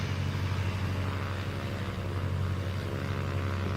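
A Cessna Skylane 182 engine held at run-up power in Microsoft Flight Simulator, a steady loud propeller drone with a constant low hum and no pauses.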